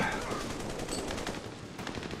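Sustained rapid gunfire in Army of Two: The Devil's Cartel, a co-op shooter video game: a steady stream of closely spaced automatic shots under a constant noisy battle wash, fairly loud throughout.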